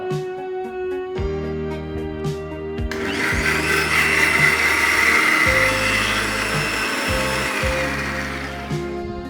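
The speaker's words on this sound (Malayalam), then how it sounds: "ഇത് നമുക്ക് മിക്സിയിലടിച്ചിട്ട് പാലാക്കാം" An electric mixer grinder whirs loudly and steadily as it grinds half a coconut's worth of grated coconut into coconut milk for a fish masala curry. The motor starts after a short pause and grows harsher and louder once the blades bite in.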